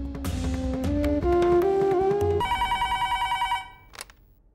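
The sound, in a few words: telephone ringing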